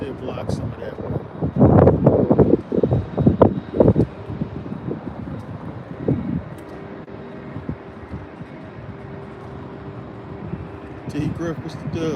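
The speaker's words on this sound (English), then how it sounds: "Apologize for the wind." Low, blustery wind buffets the microphone in heavy rumbling gusts, strongest early on, then settling into a steadier muffled roar.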